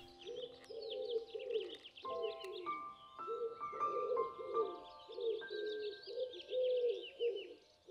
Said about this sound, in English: The bird song was amazing.